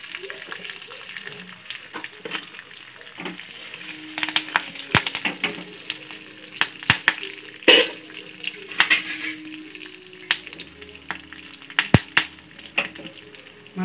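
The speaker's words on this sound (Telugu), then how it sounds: "మనం ఇప్పుడు దీంట్లో పోపు దినుసులు వేసుకుందాం." Tempering spices, dried red chilli pieces and asafoetida, hitting hot oil in a pan: a soft sizzle with sharp pops and crackles scattered through, plus stirring scrapes, close by and fairly quiet.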